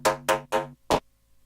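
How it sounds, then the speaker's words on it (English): Neuro bass sound through a Valhalla reverb plugin: four short, bright, gritty bass stabs, the first three in a quick even rhythm, then a pause, a fourth hit and a faint reverb tail fading out. "So basically the sound of the Valhalla is like that."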